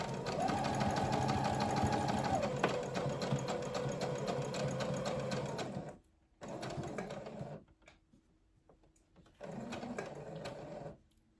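A sewing machine stitches a seam down a pair of workwear shorts, running steadily for about six seconds, then in two shorter bursts separated by pauses, loud and close with no talking.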